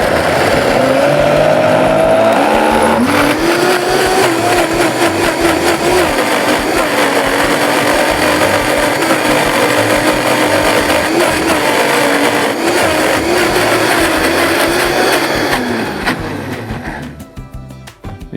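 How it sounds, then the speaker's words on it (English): A blender whirs loudly and steadily through a creamy dill mixture, a constant high-speed motor drone that runs for about fifteen seconds before winding down and stopping, close and alone with no talk. "then give this a blend. And this is going to take a little bit."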